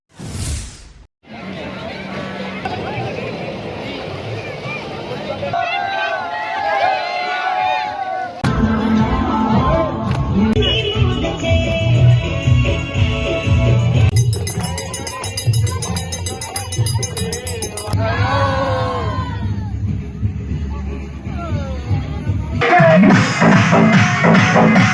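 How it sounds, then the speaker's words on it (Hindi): A crowd of Ganesh devotees gathers at a municipal council's artificial immersion pond during Ganesh Chaturdashi idol immersion. A dense, loud hubbub of many voices continues throughout with mixed background commotion. "नगर परिषद के इस कृत्रिम तालाब पर दिन भर बप्पा के भक्तों की भीड़ देखने को मिली"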